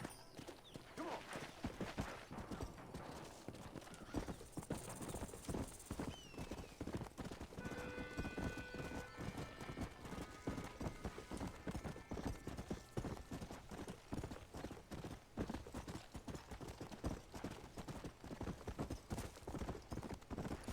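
Horse hoofbeats in the video game Red Dead Redemption: steady, rapid clip-clop of a galloping horse running throughout, with brief whinnies and faint game ambience, fairly quiet overall.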